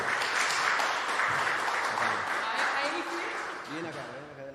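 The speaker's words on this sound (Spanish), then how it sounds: "Gisela, un aplauso para ella," A studio audience on a Spanish-language live TV program applauds loudly for a guest, dense clapping that gradually thins, with a voice starting to speak over the tail end.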